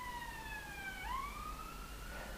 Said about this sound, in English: Just waiting for the police car to go past.